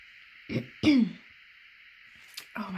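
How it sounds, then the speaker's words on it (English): A woman clears her throat twice in quick, raspy bursts, then a softer throat noise follows after a pause, close to the microphone. "I'm trying my hardest not to clear my throat a million times in this video."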